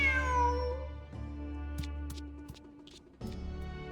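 A cartoonish cat meows in the Genshin Impact video game, with a drawn-out call over a steady musical bed followed by a few short, soft mews.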